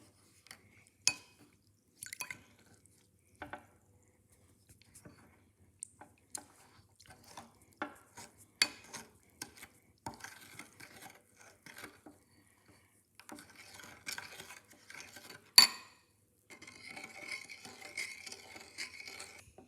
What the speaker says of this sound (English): Now it's time to mix them all together until the baking soda and cornstarch dissolve.